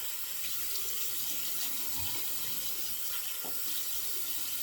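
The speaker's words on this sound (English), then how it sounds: "Next step is we'll rinse the head." Running tap water pours steadily, close and continuous, as a head is rinsed under it, with small splashes and shifts in the flow and no talking.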